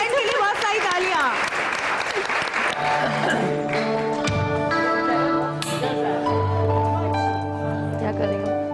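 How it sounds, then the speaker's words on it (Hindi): Studio audience applause on an entertainment show, a dense burst of clapping that fades as music with sustained tones rises underneath. "बहुत सारी तालियां"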